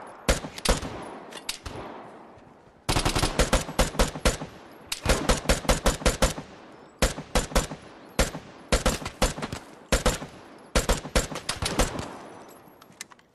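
Loud, close gunfire in the online shooter Vigor, rapid bursts of sharp cracks in quick succession, broken by brief pauses and then resuming in fast volleys.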